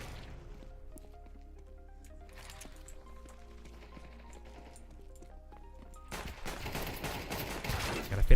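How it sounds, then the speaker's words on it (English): Counter-Strike: Global Offensive pistol shots: after a stretch of soft tonal game music, a burst of loud, rapid, crackling gunfire breaks in near the end and grows louder. "I like the sound of this pistol."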